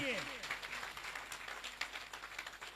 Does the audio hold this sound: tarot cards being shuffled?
no